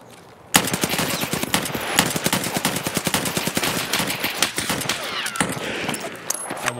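Rapid automatic gunfire in a first-person shooter video game, a sustained, loud, dense rattle of shots that starts abruptly and barely pauses for several seconds.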